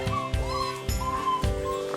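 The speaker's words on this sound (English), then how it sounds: "One of Maple's pups really talking to us. You might hear them in the background." Vizsla puppies whining and yelping from inside a truck, a few thin high-pitched cries in short bursts, faint and set back in the background.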